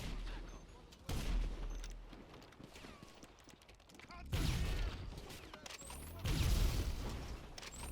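An explosive sniper rifle fires three heavy, booming shots at a helicopter in GTA Online, each blast spaced a few seconds apart and trailing into a rumbling tail, with a voice talking quietly beneath.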